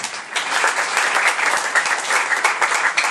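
A church congregation at a deliverance service applauds, dense sustained clapping from many hands filling the room at a loud, steady level.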